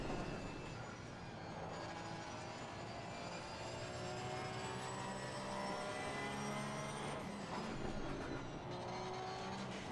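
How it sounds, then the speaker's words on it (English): Porsche 991 II GT3-R race car engine in Assetto Corsa Competizione, a loud continuous racing-engine drone with the pitch climbing and shifting as it revs, no voices. "Listen to the engine."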